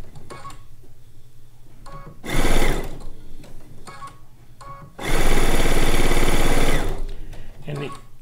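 A computerized sewing machine runs in two loud, sustained bursts of rapid stitching on quilt pieces, between quieter stretches where a person talks.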